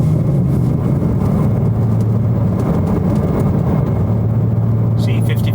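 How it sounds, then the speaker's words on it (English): A BMW G87 M2 with an AWE exhaust cruising in third gear around 2500 RPM, giving a steady, loud low drone that fills the cabin throughout. "you get a little bit of that drone because you're sitting in that 2500 RPM range"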